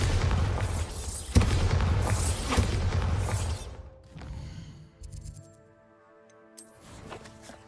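Bombarda spell blasts in Hogwarts Legacy: a loud, sharp explosive crack rides over a sustained roaring rumble that fades out, followed by quieter game music with a few later bursts.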